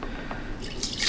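Liquid is poured into a stand mixer bowl fitted with a dough hook while making dinner-roll dough, giving a faint splash and drip that grows into a soft, brighter trickle near the end.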